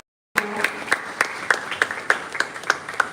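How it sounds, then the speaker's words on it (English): Audience applause at a global church conference welcoming a pastor to the stage, a short burst of many hands clapping with steady sharp claps standing out, loud and close, with no talking. "please with a clapping ovation, let's make welcome Pastor Gilga Omaya."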